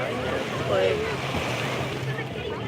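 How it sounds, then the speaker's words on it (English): Wind gusts steadily across an outdoor microphone high up, a continuous broadband rush with low rumble, while a voice speaks briefly over it. "getting wind up here."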